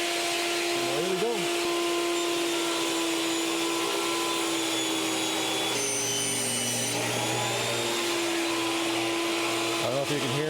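A shop vacuum hums steadily and loudly throughout while a sheet of material is cut for recessed exterior columns, its drone near and continuous with brief shifts in tone and a voice faintly under it.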